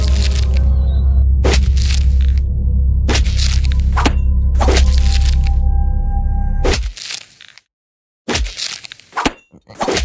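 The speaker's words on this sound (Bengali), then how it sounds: "যে যার হাতে থাকা কুড়ুল বার করে কাজ শুরু করে" Axes chop into a palm tree in loud, sharp cracks roughly once a second over a low rumbling bed, then a brief pause and a few more close, hard strikes.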